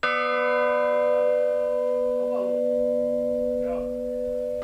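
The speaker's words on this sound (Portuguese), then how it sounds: "O toque dos sinos foi tombado como patrimônio imaterial do Brasil" Church bells ring out in a Minas Gerais town, a steady sustained peal with long ringing overtones, loud and close, with faint voices in the background.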